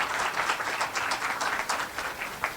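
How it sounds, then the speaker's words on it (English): A fairly faint round of applause from an audience at a Toronto New Year political gathering, steady, dense clapping for a couple of seconds with no voices over it. "So you guys deserve a round of applause."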